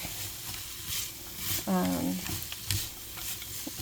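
Vegetables and garlic being stirred in a hot frying pan, with scraping stir strokes over a soft, steady sizzle, close by and fairly quiet, and a brief tonal squeak midway.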